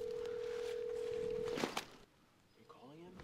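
A steady electronic tone runs for about a second and a half, then cuts off with a couple of clicks, followed by quieter rising beeps.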